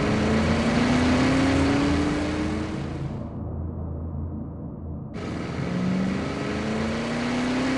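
Car engine rumbling and revving as the vehicle pulls away, pitch climbing steadily, then the sound briefly dulls and muffles before returning, close and loud throughout.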